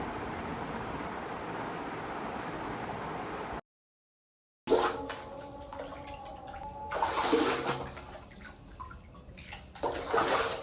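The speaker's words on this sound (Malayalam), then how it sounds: "ഇതാ കിണറിൽ ഏകദേശം വെള്ളം നിറയാറായിട്ടുണ്ട്." Water pours steadily into a household well that is nearly full, a continuous rushing wash that stops briefly and then resumes with louder splashing surges.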